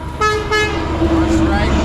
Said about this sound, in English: got people honking for them